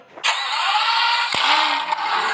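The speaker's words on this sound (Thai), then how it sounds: "ฟังเสียงสตาร์ทนะครับ" A motorcycle engine fires up with a sharp crank and immediately settles into a loud, close exhaust drone, with a brief blip partway through.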